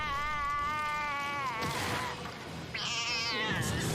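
An anime cat lets out a long, drawn-out meow, followed after a short scuffle of noise by a second, higher and more strained yowl, loud and close.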